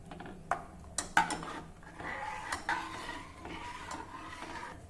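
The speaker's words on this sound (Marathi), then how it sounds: "चमच्याने सतत ढवळत राहा, म्हणजे कढी एकसारखी होईल" A spoon stirs kadhi in a pot as it boils over high heat, giving a few sharp knocks against the pot early on, then steady, moderately close scraping and sloshing, with no talk.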